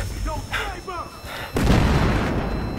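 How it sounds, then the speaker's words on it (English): A firebomb goes off in Battlefield Hardline, a sudden loud burst that swells into a sustained roaring rumble after players shout over the gunfire. "Look out! Firebomb!"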